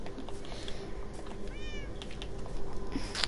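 A Minecraft cat meows once, a short rising-falling mew at moderate distance, over a steady hum of game background noise with no talk.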